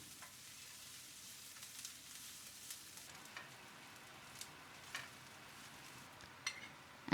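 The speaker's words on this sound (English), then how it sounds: "fry the diced shallots in it for 1 to 2 minutes" Diced shallots frying in ghee in a large frying pan, a quiet steady sizzle with occasional soft clinks and stirring taps, faint and close.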